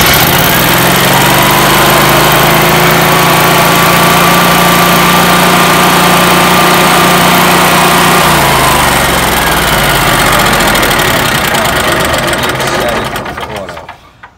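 A Generac standby generator engine runs with a steady, loud mechanical drone and humming tones throughout, then winds down and cuts off near the end.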